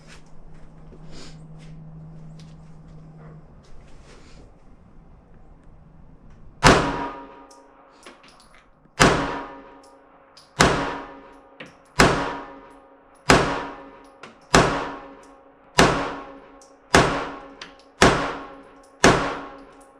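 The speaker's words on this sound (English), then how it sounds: "Our first magazine through the firearm, bottom left target." A Ruger Security 380 pistol fired at a range: ten sharp, loud shots spaced about one to one and a half seconds apart, each with a quick decaying ring, after a few seconds of quiet background.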